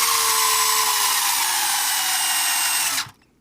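A HoSPEED HS18311 1:18 scale Thunder Buggy RC car's electric motor run at full throttle gives a loud, close, high-pitched steady whine that cuts off abruptly near the end.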